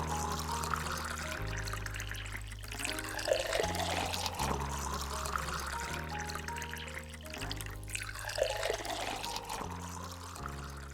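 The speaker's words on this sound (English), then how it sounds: "And we're going to let that run and wait for all of that coffee to steep." Keurig coffee maker brewing a cup of coffee, a steady liquid pour and trickle running continuously with a low pump hum, close and alone.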